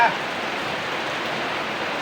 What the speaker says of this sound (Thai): มื้อนี้ฝนตก